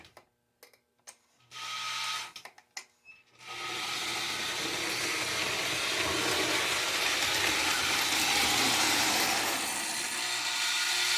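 An O gauge model train locomotive runs on a home layout, first a few quiet clicks and knocks, then a steady, close, whirring rumble of motor and wheels that continues without pause.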